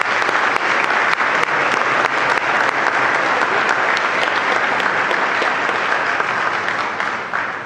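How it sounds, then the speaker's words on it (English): Loud, sustained audience applause for the musicians at a high school Veterans Day celebration, a dense, even roar of clapping that continues without a break and tapers slightly at the end. "Let's give them a round of applause."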